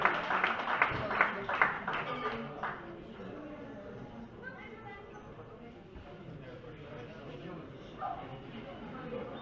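An audience at a trophy presentation ceremony at Monassut breaks into a short burst of scattered hand clapping that fades within a few seconds, leaving murmured talk and chatter in the room.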